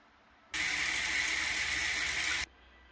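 Tap water runs in a steady, loud rush for about two seconds onto a burning foot, starting and stopping abruptly, with no voices.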